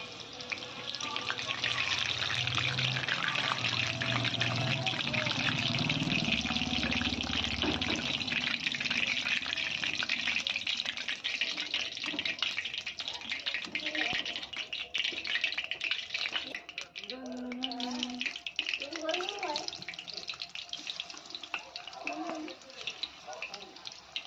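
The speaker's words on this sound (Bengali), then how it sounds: "তো এখানে কড়া ভর্তি করে চিকেন দিয়ে দিয়েছি, এবার ভালো করে ভেজে নেব" Chicken pieces frying in a pan filled with oil for chilli chicken, giving a steady, bright sizzling hiss that continues throughout, with a person talking over it.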